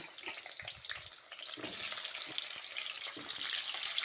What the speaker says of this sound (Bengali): তেলের সঙ্গে আলুগুলোকে ভালোভাবে নাড়াচাড়া করে নিয়ে আলুগুলোকে লালচে করে ভেজে নিতে হবে